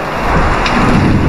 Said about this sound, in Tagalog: Umuulan! Umuulan! Umuulan!